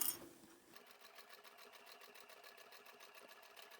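A domestic sewing machine runs steadily, backstitching and then slowly sewing a fabric shopping bag, with a close, even whirring and rapid needle rhythm after a brief clunk at the start.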